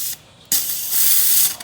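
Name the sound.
McCulloch 1385 steamer releasing adjustable steam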